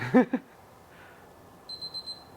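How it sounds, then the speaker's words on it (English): A kitchen timer goes off while a salmon quiche bakes: a few close thumps, then a short run of four high, evenly spaced electronic beeps in a quiet room. "The timer's almost ready, guys."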